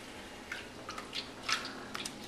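Water drips from a lifted grain bag of a pumpkin ale mini mash over a pot and strainer, soft scattered drips and squishy trickles over a low background hiss, faint and close.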